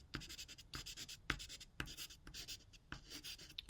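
Pastels scrape across paper in short repeated strokes, each a soft rasp about half a second apart, close and quiet with no talking.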